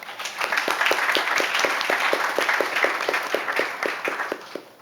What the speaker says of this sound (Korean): 한 분 한 분 박수로 맞이해 주시기 바랍니다